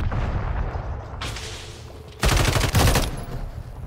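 Gunfire from Modern Warfare 3 played on PS5 on the Terminal map: a burst of rapid shots, then a louder, denser volley of automatic fire close by.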